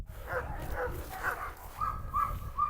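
A dog barks and yips in a string of short, sharp, excited calls at moderate distance, with no one talking.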